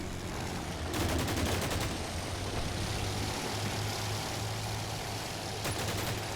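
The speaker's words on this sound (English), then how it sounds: "Machine gun fire." Machine gun fire from a BMP armoured vehicle in the war game Combat Mission Shock Force 2 comes as short rattling bursts over a continuous loud engine and battle rumble, with no talking.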